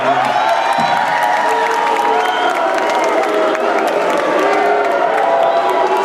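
A large, mostly Irish crowd at a UFC 189 press conference for Mendes vs McGregor cheers loudly and without pause, a dense roar of shouts and whoops throughout.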